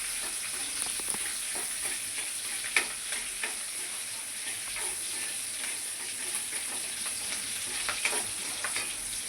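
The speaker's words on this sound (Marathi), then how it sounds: "त्याच्यात घालूया हिरवी मिरची. त्याला पण थोडंसं भाजून घेऊया." Curry leaves and green chillies sizzle and fry in a hot pan for Indian cooking, a steady close crackling hiss with occasional sharper pops and stirring scrapes, no talking.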